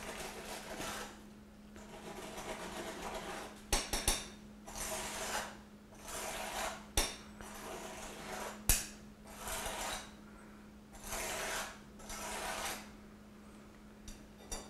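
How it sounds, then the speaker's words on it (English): A strike-off bar scrapes excess concrete from the top of a roller meter's measuring bowl in a repeated rhythmic pattern of rasping strokes, joined by several sharp metallic knocks over a steady low hum. "Strike off the excess concrete with a strike-off bar"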